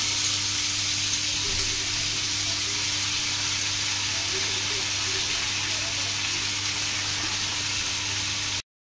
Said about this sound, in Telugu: ఇక ఆలుగడ్డ వేపుడు పోపు వేసేసానండి